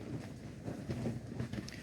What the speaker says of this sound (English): So it's windy as buggery still.